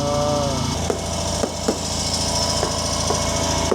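Sharp knocks on a truck's cargo tank to check its fill level, several separate hollow metallic hits spaced irregularly over a droning engine hum.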